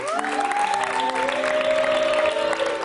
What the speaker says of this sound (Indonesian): Buat tepuk tangan dulu dong buat Umi.